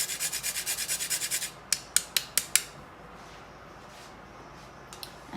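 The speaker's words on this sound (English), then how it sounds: "And now I'm going to grate a pinch of nutmeg." A pinch of nutmeg is grated for cheese scones in a run of about a dozen quick, even rasping strokes. After a pause come five sharper strokes, then near-silence with a few faint scrapes, and no talking.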